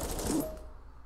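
The Sierra de Arco machine gun in Fortnite lets off a brief, faint burst of rapid shots that cuts off after about half a second and leaves quiet.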